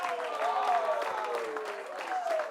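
A studio audience on a French-language talk show applauds a guest as she walks on, brief steady clapping under lively voices and shouting.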